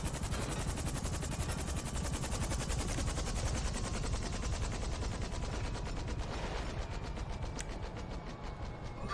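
Someone shooting at the player in GTA Online, a continuous fast rattle of automatic gunfire at moderate distance with a dense, steady texture throughout.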